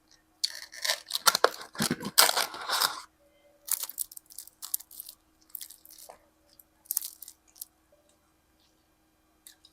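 Crunchy bites and chewing of a Jollibee tuna pie come close to the mic in loud bursts, a dense flurry first, then sparser crunches with quiet pauses between.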